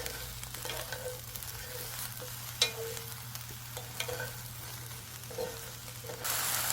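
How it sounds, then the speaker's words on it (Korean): Eggplant seasoned with salt, pepper and herb salt is stir-fried in a pan: a steady, fairly soft sizzle runs throughout, with a few light scrapes and clicks of stirring, and no talking. "뿌려주시고 이렇게 좀 볶아주시면 돼요."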